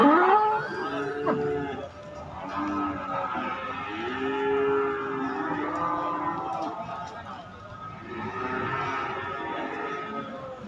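Several cattle, including Brangus, moo in long, low, drawn-out calls, overlapping at times, against a busy background of crowd noise and distant voices at a livestock market in Pati.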